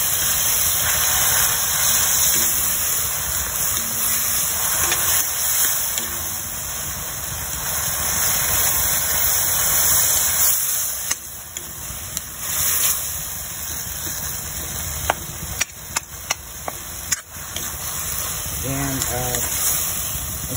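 Tomatoes sautéing in a pan for a spicy squid dish, a steady sizzling hiss running throughout at moderate loudness, with a few brief clinks near the end and a voice speaking partway through.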